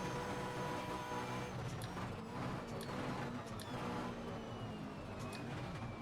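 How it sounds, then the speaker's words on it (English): A V8 Supercar engine in Assetto Corsa, racing at Hidden Valley, bouncing off the rev limiter with a steady buzzing drone and rapid cutting stutter, constant and fairly loud throughout with no talk. "Gonna get into the limiter again."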